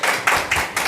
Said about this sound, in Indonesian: tepuk tangan buat Pak David